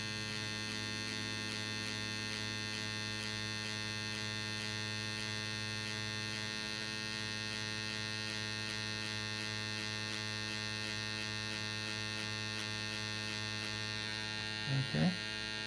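A powder brows tattoo machine drives its needle rapidly against skin, giving a steady, faint electric buzz with a constant pitch that runs unbroken through the whole stretch, with a brief small knock near the end.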